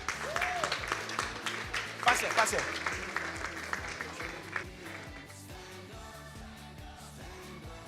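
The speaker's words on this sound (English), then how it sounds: "Clap for him, please." Audience applause at a calculator competition stage event, a steady ripple of clapping from a crowd that fades slowly, with a voice speaking over it.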